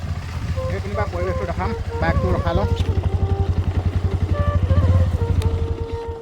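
A motorcycle engine idles and putters in a fast, even rhythm close by, the throb slowing and easing as the bike is brought to a stop, with someone talking over it.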